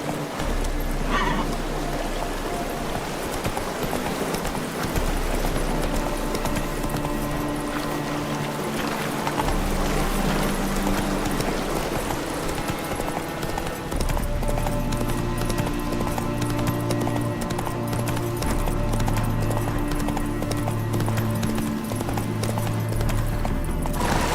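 Horse hooves clip-clopping in a steady galloping rhythm in the video game The Witcher 3 Wild Hunt, continuous and fairly loud over in-game ambience and music.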